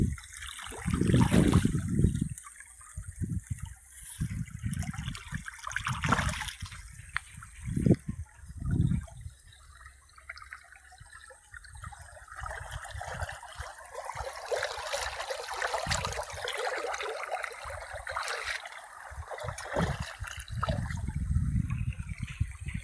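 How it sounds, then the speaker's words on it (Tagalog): Spring water on farmland in San Quintin, Pangasinan, trickles and gurgles close by, at times louder and at times softer, with light rustling and handling noise mixed in. "Eh, buhay na tubig oh."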